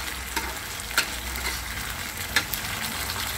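Chicken with soy sauce sizzles and simmers in a pan, a steady close frying hiss with a few soft clicks of stirring and no voices.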